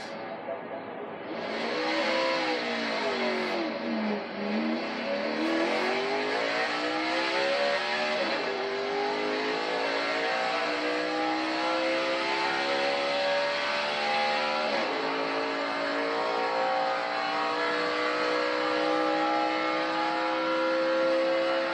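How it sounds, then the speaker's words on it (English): A race car in 2016 Geico 500 qualifying pulls off pit road and climbs through the gears, its engine loud and close, rising in pitch with each shift for over twenty seconds with no talk over it. "Rev up like that, a lot of power in these race cars."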